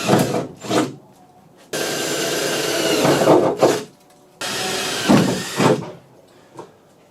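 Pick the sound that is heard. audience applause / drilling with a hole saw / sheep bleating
drilling with a hole saw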